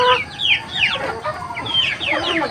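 A rooster on a farm lets out a quick run of sharp clucks and squawks, several short calls in a row, close and fairly loud.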